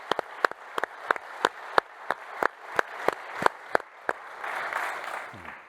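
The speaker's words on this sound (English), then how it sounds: "Can we all give a round of applause for Roger Rigsby?" An audience gives a round of applause at a professional talk event for Roger Rigsby, with sharp, separate claps at first that thicken into a broader wash of clapping. Fairly close and moderately loud, with no talking over it.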